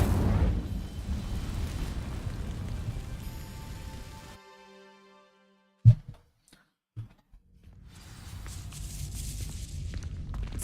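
Fire spell cast in the video game Hogwarts Legacy, a loud whooshing roar that cuts off into near silence, followed by two sharp bursts and a fainter one, then a crackling blaze swelling back up.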